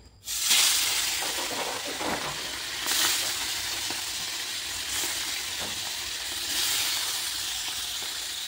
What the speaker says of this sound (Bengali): তো দেখো এখানে মাছ ভেজে নিলাম